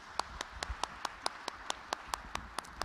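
Faint, steady hand clapping from an audience at a debutante cotillion ball, a regular run of sharp claps spaced evenly, with no voices over it.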